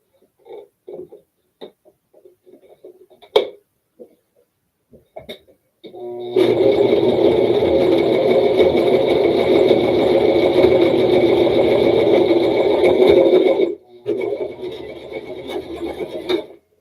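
A sewing machine stitches across folded fabric with a steady, loud mechanical hum and whir that runs for about seven seconds, preceded by scattered handling clicks and rustles and followed by more faint handling noise.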